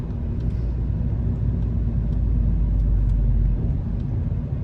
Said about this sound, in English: it downshifts pretty much very aggressive manner.